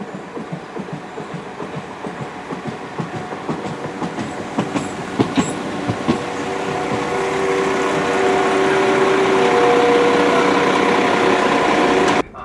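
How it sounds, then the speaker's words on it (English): A train rolls into a station with rhythmic clickety-clack over the rails, then a steadier rumbling hum and faint squeal as it slows, close and loud, in a train simulator. "our train should be arriving now to take us to the Hawthorns"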